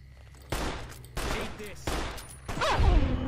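Gunfire in the video game Fallout: New Vegas, with several loud bursts arriving in quick succession and some voice or effect sounds beneath the final burst.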